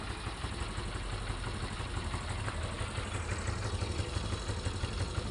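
A restored Honda CB125 motorcycle engine idles steadily nearby, without its chain fitted, a fast, even mechanical chatter with light clattering, no voices.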